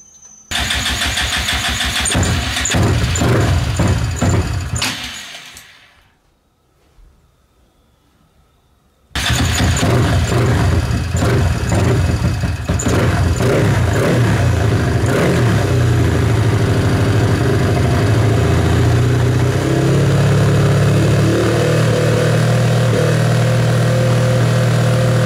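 A Honda Grom motorcycle engine runs loud and close, cuts out into near silence for a few seconds, then fires back up and holds a steady raised idle with slight revving.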